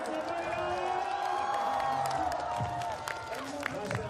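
A large crowd cheers, whoops and claps steadily at a BMX freestyle park World Cup final in Shanghai, the roar sustained and fairly loud with an announcer's voice carried over it.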